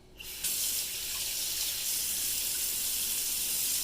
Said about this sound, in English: Hold on. Let's wash that egg.